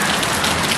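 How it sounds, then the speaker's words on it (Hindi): Heavy rain falls outside a house in Gulmarg, Kashmir, as a loud, dense and steady hiss of drops on surfaces, close and unbroken, with no voices over it. "बाहर हो रही है झमाझम बारिश"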